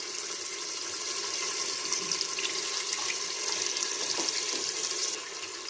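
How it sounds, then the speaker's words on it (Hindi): Chicken stock poured from a running stream into a soup pot of onion and green chili paste in a home kitchen, a steady close liquid splash lasting several seconds before easing off. "थोड़ा सा यखनी का पानी डाला है।"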